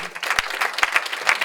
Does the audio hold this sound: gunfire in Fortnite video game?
no